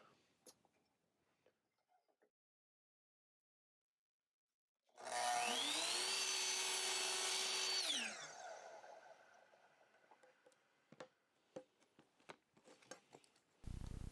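A power saw cuts scrap wood handle sticks to length in a workshop, whining up to a loud, steady cut of about three seconds before spinning down, followed by light clatter and knocks of wood being handled.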